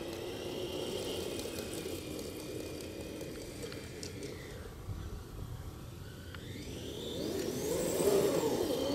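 Radio-control snowmobile with a 3500kv brushless motor on a 14.4 V 4S LiPo, run at light throttle outdoors; a faint electric whine sits over steady low rumble and swells slightly toward the end.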